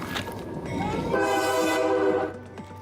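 Train passing and sounding its horn, a long sustained tonal blast rising over the rumble of the rail cars, fairly close and then fading as it ends.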